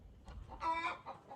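American Bresse chickens in a chicken yard cluck softly at a distance, with one brief louder squawk in the middle over low background noise.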